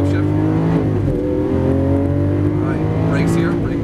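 A Lamborghini Aventador accelerates hard around a race track, its engine roaring loud and close with rising pitch across one sustained pull, while an instructor's voice talks over it.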